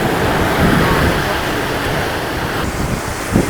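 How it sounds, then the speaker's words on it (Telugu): Strong sea wind on a beach on the Bay of Bengal at Pondicherry at night, loud buffeting gusts over a steady surf-like roar, the wind hitting the microphone in rolling surges with no voices heard. "చాలా విండ్ వస్తుంది ఎందుకంటే సీకి పక్కకే ఉన్నాం కదా"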